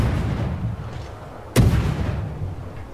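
Destroyer guns firing in the naval combat video game World of Warships: a single sharp, loud cannon blast with a heavy low boom that rings out and decays over a second, over a steady rumbling game background.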